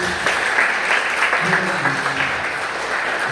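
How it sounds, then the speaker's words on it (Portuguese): Congregation clapping during an evening family church service, a lively, continuous wash of applause with voices calling out over it. "Aplauda o Senhor Jesus nessa noite"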